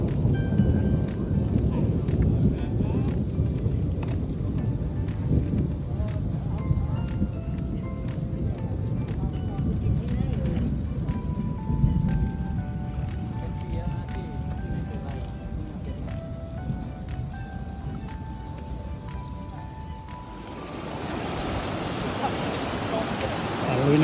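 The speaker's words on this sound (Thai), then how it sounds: "โอ ้ฝนตกครับ ฟ้ากำลังคำรามเลยครับ" Steady rain with low thunder rumbling through a roadside storm while cycling from Bhumibol Dam toward Thoen, Lampang, a broad continuous wash under a voice talking throughout.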